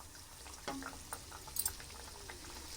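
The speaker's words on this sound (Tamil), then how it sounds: "இப்போ எண்ணெய் நல்லா காஞ்சிடுச்சு, நம்ம போட்டு பொரிச்சு எடுத்துக்கலாம்." Wheat flour nimki dough, made from whole wheat atta and gram flour, deep-frying in hot oil: a faint, steady bubbling hiss with a soft splash-like burst early on. No one speaks.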